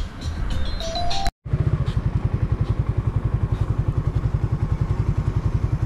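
A motorcycle being moved outside the Naga City Police Office: after a short dropout the motorcycle runs with a steady, rapid chugging pulse, close and moderately loud, with faint clatter before it.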